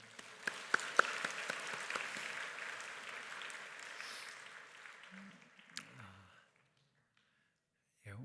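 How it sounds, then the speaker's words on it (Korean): Church congregation applauding during a Sunday worship service in a Korean church, a steady wash of hand claps with a few sharper claps near the start, lasting about six seconds before fading to silence. "우리 박수 하겠습니다."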